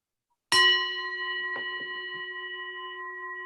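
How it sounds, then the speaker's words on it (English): A single bell is struck once to open a guided breathing exercise, ringing out clear and close with a steady pure tone that sustains and slowly fades over several seconds, with a few faint knocks in the background. "we're going to start at the sound of the bell"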